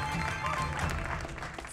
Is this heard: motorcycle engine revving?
no